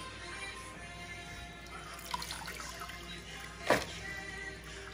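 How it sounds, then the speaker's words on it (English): Muddy water being cleaned out of a big bucket, quiet trickles and drips with a brief louder splash near the end, close by in a calm indoor space. "I'm just trying to clean out the big bucket"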